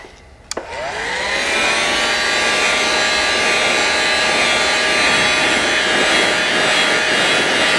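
A heat gun heat-setting paint on a fishing lure painted in a firetiger vein pattern: a click as it switches on, then a loud, steady blowing roar with a constant whine that holds to the end, with no talking.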